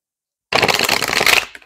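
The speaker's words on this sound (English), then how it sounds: "forgive my shuffling" Tarot cards shuffled in the hands, a dense, crisp riffling burst about a second long that starts abruptly and tapers off, close and fairly loud with no talk.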